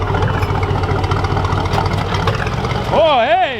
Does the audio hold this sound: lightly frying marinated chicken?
no